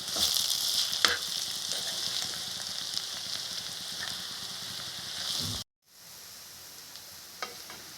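Potatoes for aloo fry sizzle steadily in a pan with spices, a dense continuous frying hiss broken by a brief silence, then resuming more quietly with an occasional stir.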